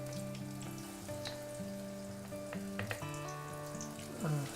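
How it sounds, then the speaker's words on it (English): Battered tilapia and shrimp deep frying in hot oil, a steady, quiet crackling sizzle throughout, with faint clinks and a few brief bumps, and no voices. "this will fry up in about 2 or 3 minutes"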